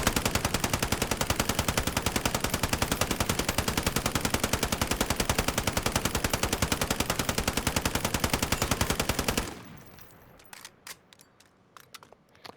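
A machine gun in Call of Duty Modern Warfare fires a continuous 100-round burst, a rapid, unbroken rattle for about nine seconds, followed by quieter mechanical clicks of reloading.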